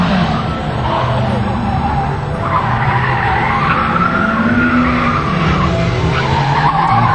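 Cars lap a driving-skill course at a 1988 competition, including a Honda and a Peugeot, with tires squealing and skidding in long sliding whines over steady engine noise, loud and continuous.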